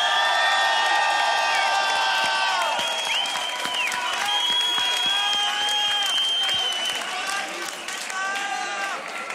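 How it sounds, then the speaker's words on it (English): Loud crowd applause and cheering fill a beatbox loopstation battle hall for Luxembourg beatboxer Slizzer after a 2017 quarter-final, with whoops and a host's voice over the steady clapping. "Round of applause, Slizzer."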